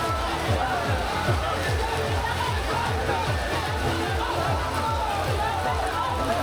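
A dense crowd mills about at Jalpesh temple during heavy rain, a steady wash of overlapping voices and chatter mixed with constant rain noise and a rhythmic low thumping underneath.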